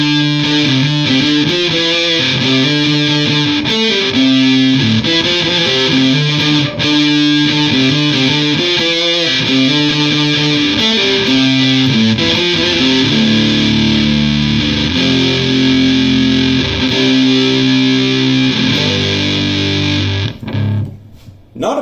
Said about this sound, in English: Not a bad sound, but that's not a fuzz to me. That just sounds like a distortion.